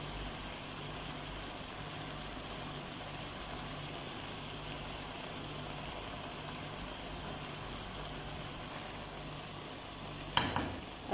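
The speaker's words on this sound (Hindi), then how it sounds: "1 मिनट हमें मसाले के साथ भूनना होगा।" Rice and spinach frying with spices in a pan for masala khichdi, a steady close sizzle with faint stirring, a low hum underneath and a couple of sharp clatters near the end.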